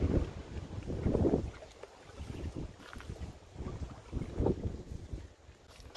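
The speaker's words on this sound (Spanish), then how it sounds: "ahorita el viento está fuerte, medio fuerte" Strong outdoor wind buffets the microphone during outdoor cooking, producing low, uneven rumbling gusts that swell and fade in waves, loudest near the start and again toward the end, with no talk heard.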